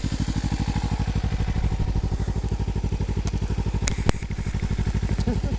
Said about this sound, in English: We are gonna try the DR-200 for the first time.